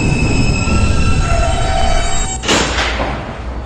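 An R160B D subway train runs with a loud, steady rumble and drawn-out wheel squeal tones, then a heavy thump partway through followed by a burst of broadband rattle.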